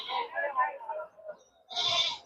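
Native sheep bleat at the Ranipet livestock market, a few cries rising over steady nearby talk, with a louder, fuller bleat toward the end.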